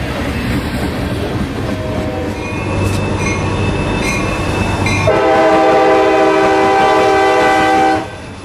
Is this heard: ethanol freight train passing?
yes